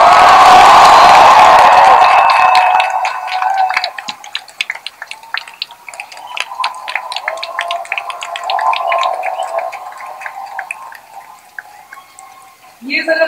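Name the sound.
audience cheering and clapping, standing ovation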